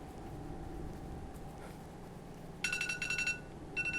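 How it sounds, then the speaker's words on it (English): Alarm going off indoors, a pulsing electronic beep pattern that starts partway through, pauses, then resumes, fairly faint against a quiet room background. "Oh, there's my alarm."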